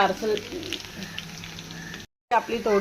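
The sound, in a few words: garlic and chili sizzling in hot oil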